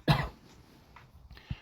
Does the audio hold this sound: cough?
yes